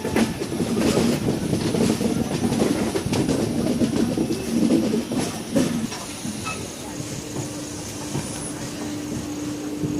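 A passenger train pulls into a Chennai-area station at night, its steady rumble and wheel clatter close and loud before easing down to a quieter hum.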